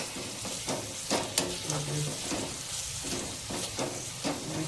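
Tomato sizzles and fries in hot oil for a cabbage curry while a spoon stirs it, with steady close hissing and scraping knocks against the pan throughout, no talk.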